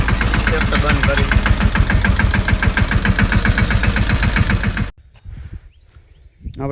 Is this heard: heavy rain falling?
no